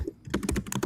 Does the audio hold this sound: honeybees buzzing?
no